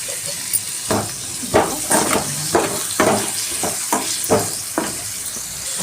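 Egg sizzles loudly in a frying pan with onions, punctuated by repeated rhythmic scrapes and clacks of a spatula stirring against the pan, no voices.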